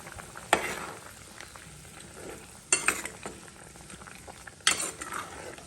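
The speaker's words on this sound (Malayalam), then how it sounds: "അതുകൊണ്ട് നന്നായിട്ട് തിളച്ചു." Curry with ash gourd boils in a pot, a low steady bubbling broken by three sharp metal clanks of a utensil against the pot, close by.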